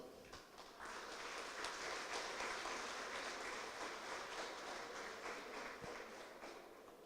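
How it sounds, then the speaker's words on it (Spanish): Audience applause at a lecture on fundamental rights, a dense, faint patter of many hands clapping at a distance, rising after the first second and holding steady. "para la cual pido un aplauso"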